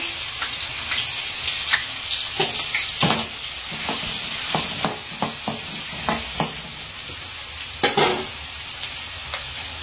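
Two chopped onions frying in hot oil in a pan, a steady bright sizzle punctuated by repeated sharp spatula scrapes and knocks in an uneven rhythm, close and fairly loud, with no speech.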